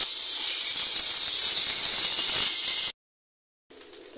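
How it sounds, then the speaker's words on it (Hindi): Prawns frying in hot oil give a loud, steady hiss and sizzle close by for about three seconds, then a sudden cut to silence and a brief quieter return. "चिंगड़ी मांस डाल दिया, अच्छे से फ्राई कर देंगे।"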